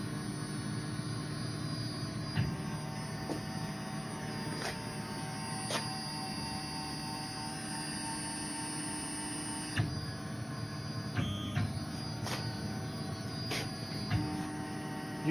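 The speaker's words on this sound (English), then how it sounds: "I have the spindle moving at a very slow speed" A Tormach 770 CNC milling machine runs with its spindle turning very slowly, giving a steady mechanical hum and whine broken by occasional clicks and ticks. The sound is continuous and close.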